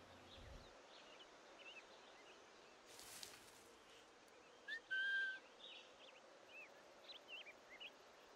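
A character in Assassin's Creed 4 Black Flag gives one short, quiet whistle midway, set against a soft game ambience of birds and insects.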